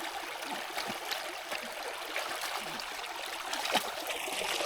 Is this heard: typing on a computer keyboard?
no